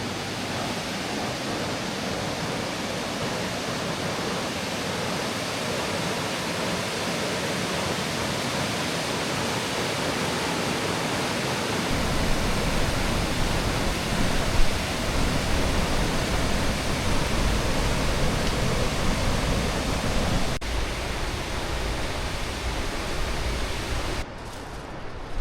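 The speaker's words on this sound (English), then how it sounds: "come and have a wee look at this wee canyon creek" Water rushes through a small canyon creek on New Zealand's West Coast, a loud, steady roar of broadband flow heard alone and close, growing fuller partway through.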